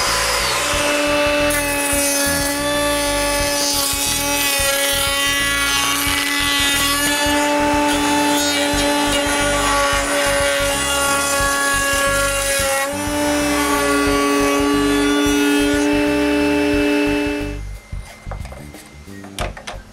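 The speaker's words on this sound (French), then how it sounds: "je perce les mortaises pour les dominos, puis je fais une rainure au centre pour les panneaux contre la poussière" Wood is drilled for domino mortises and a groove is routed down the centre for dust panels on a nine-drawer chest, a loud continuous power-tool whine with strong tonal harmonics that cuts off near the end.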